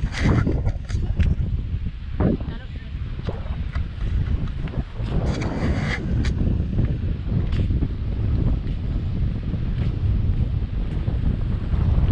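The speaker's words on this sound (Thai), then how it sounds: "ลมลมลมอากาศดีป่ะนี่" Strong outdoor wind at the Hotel del Coronado waterfront near a boat on the water, a loud continuous rumbling buffet across the microphone with gusty surges and faint wave wash underneath.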